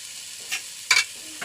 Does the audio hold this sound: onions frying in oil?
yes